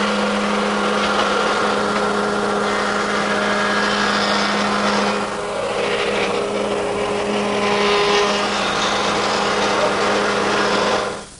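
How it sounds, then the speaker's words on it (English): A router table with a 1/4 inch roundover bit routs the edges of a blank strip for a trundle bed, its high steady whine running loud and continuous throughout, dipping slightly midway as the cut proceeds. "I'm going to use my router table, which I set up with a 1/4 inch rounding over bit"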